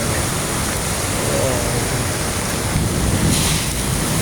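Dense, continuous rushing hiss of heavy rain pouring down on a flooded street in Ramkhamhaeng, Bangkok, steady and fairly loud throughout.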